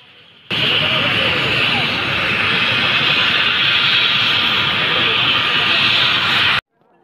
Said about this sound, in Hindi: फाइनाली तीनोटी हेलिकॉप्टर लैंड कर सारी।